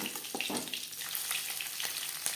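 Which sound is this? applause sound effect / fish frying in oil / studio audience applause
fish frying in oil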